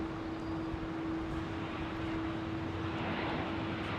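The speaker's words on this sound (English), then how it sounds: "John Stoner loving that landing." An aircraft approaching London Heathrow Airport gives a steady, continuous engine roar with a sustained whining tone, moderately loud and unbroken throughout.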